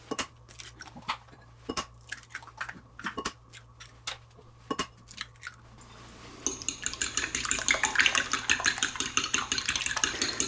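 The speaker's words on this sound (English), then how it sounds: "we're just going to beat it to a nice uniform consistency" Eggs beaten with water for a steak, mushroom, onion and cheese omelet: a fork or whisk clicks sharply against a bowl in separate strokes, then speeds into a dense, rapid clatter, close and alone.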